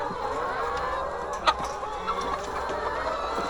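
Chickens cluck softly inside a chicken hut, a few scattered calls over a constant background hubbub of the flock.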